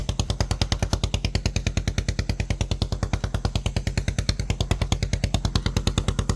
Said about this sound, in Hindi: ये वाला जो ट्यूबवेल है ये चल रहा है